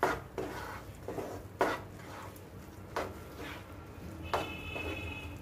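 A spoon stir-fries a sticky amla mixture with dry ginger powder in a pan, making several distinct scraping knocks against the metal at uneven intervals, close up over low background noise.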